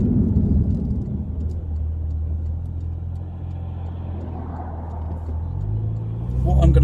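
A 2014 Porsche Boxster S rolls along a bumpy country road, heard from inside the cabin as a low, steady engine and road rumble with tyre noise, rising in a brief surge near the end.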